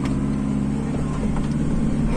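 A Toyota Hilux pickup engine labours at a steady, loud, low drone as the truck climbs an off-road obstacle in a 4x4 traction test.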